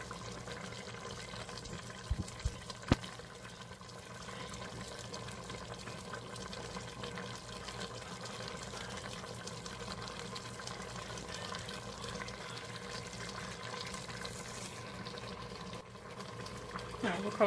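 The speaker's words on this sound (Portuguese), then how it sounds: "Eu vou colocar só um pouquinho de água." Water pours steadily into an electric pressure cooker for several seconds, a continuous gurgling splash with faint background noise.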